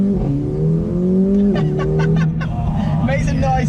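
A Mercedes A45 AMG with a 2-litre engine revs hard, its rising drone climbing in pitch through the gears, loud and close from inside the cabin, with a brief dip between pulls.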